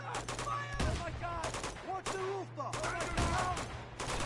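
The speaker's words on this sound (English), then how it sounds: "The hell are they shooting at?" Rapid bursts of gunfire from Uncharted 2: Among Thieves in a garden area, overlapping shots in fast volleys with game voices chattering over the top throughout.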